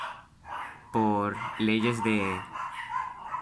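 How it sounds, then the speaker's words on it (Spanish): Dogs bark and yelp in the background, a few short outbursts partly masked by someone talking through a geometry lesson. "perdón por los perros"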